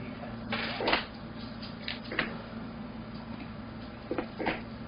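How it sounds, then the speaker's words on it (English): A scatter of small hard clatters and rattles in a few bursts, fifteen ten-sided dice tumbling and settling on a table, fairly close. "This is the sound of 15 d10s."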